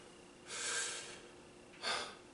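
Two audible breaths drawn during a hiccup-cure breathing exercise, a longer inhale followed by a shorter sharp one, close and quiet with no talk.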